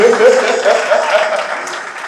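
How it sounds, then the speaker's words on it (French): Applause from a crowd, a dense clatter of clapping, with voices mixed in under it for a brief moment. "Est-ce qu'on peut applaudir pour lui, s'il vous plaît?"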